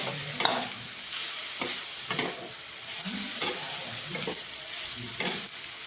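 Grated carrots frying in ghee over low heat for gajar halwa, a continuous bright sizzle with a spoon scraping and turning them every second or so, close and steady, no speech.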